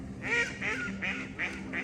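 Ducks quack nearby in a quick series of five nasal honking calls, fairly loud over a low background murmur.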